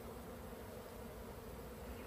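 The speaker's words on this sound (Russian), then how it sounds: "Правда, он шершень летает." A large hornet flies among jars near beehives, producing a steady continuous buzz that is close and fairly loud, with no voices over it.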